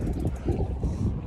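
Cold wind in New Zealand rushes and buffets against the microphone, a low continuous roar with gusty swells throughout.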